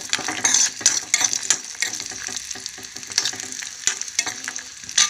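Cashews and raisins frying in a pan for semiya payasam, a steady sizzle broken by sharp spoon scrapes and stirring clinks close up, no talk.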